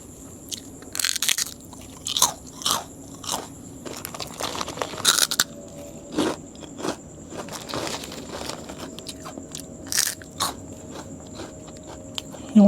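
Loud, close crunching bites and chewing of crisp food in a cemetery, repeated in irregular bursts with brief pauses between, no talking.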